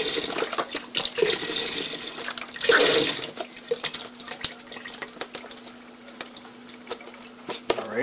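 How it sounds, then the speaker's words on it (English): A 32-ounce box of chicken broth pours into a pot already holding water, a continuous liquid splash and gurgle that swells briefly near the middle, then settles under clinks and light kitchen handling. "I'm adding in a box of chicken broth. This is a 32-ounce box."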